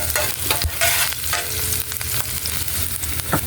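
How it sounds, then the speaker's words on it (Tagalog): Garlic and onion sauté in a pan while a spatula stirs them, loud close frying hiss with quick scraping strokes, no voices. "Halo-haloin po."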